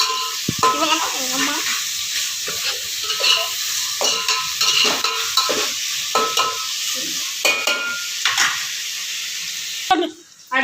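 Onions, tomato, garlic and curry leaves sauté in a pan for a tilapia fish curry, with a loud, steady sizzle and rhythmic scraping strokes of a spoon throughout, then a brief pause near the end.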